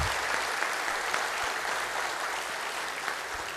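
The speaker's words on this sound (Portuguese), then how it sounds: "eu gostaria de pedir uma salva de palmas para o Ed Osmani" Steady applause from a conference audience welcoming a guest speaker, dense even clapping filling the room throughout, loud and continuous with no break.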